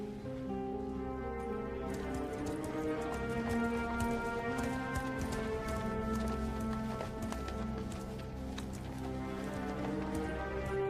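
Rapid rhythmic clip-clop of horse hooves running, steady and continuous, with a tonal musical bed underneath.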